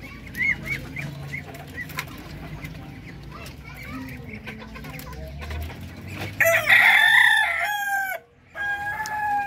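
Darag native chickens crow loudly and cluck nearby on a farm, several overlapping calls rising over a murmur of farmyard noise, with a voice talking faintly underneath.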